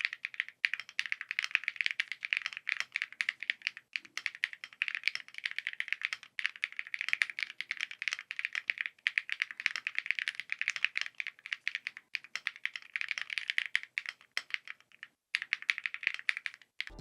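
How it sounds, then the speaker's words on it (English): An Expert GMK67 gasket-mounted mechanical keyboard with the bottom foam removed clatters under fast, continuous typing, a dense stream of bright, close key clicks with brief pauses and no talk. "Now let's do the sound test of this keyboard without bottom foam."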